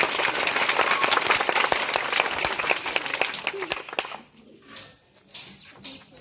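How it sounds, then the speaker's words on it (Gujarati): Loud burst of clapping from a primary school event audience in Ghatda, Virpur, dense and sustained for about four seconds before thinning out into scattered claps and quieter room noise. "આપણે તો ઉત્સાહ હોય જ એટલે એમના બંને માટે એક વખત જોરદાર તાળીઓ થઈ ગઈ"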